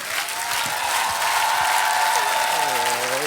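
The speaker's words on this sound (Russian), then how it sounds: "ваши аплодисменты." A concert audience applauds a singer after a heartfelt romance performance on a televised talent show stage, a dense steady wash of clapping while sustained music and a voice carry over it.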